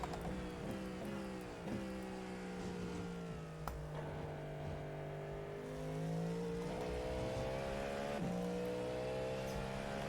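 Race car engines in the iRacing sim during a 24-hour Le Mans endurance event, a loud steady drone with rising and falling revs as gears shift, several cars audible together, with no talking.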